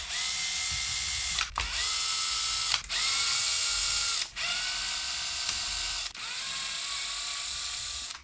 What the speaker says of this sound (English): So we have finally removed all the screws.